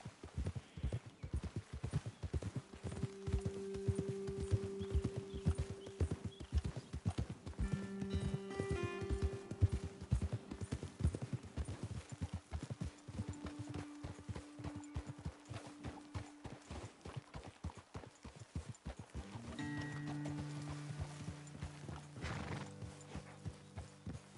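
Horses trot across open country in Red Dead Redemption 2, with a continuous clip-clop of hooves and jingling tack, an occasional whinny, and steady faint ambient music throughout.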